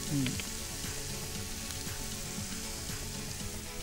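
Ground masala spices with red chili powder roasting in a pan, giving a steady, close, soft frying sizzle with light stirring scrapes throughout, no voices.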